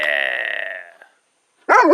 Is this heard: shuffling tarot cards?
no